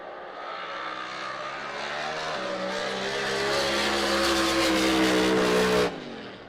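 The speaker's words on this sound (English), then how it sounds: "You'll hear those turbos spooling up here pretty quick." Turbocharged drag racing cars at a Spring Creek Finals drag race in San Angelo, with turbos spooling as they launch. Loud engine roar rises steadily over several seconds, then cuts off sharply near the end, with no speech.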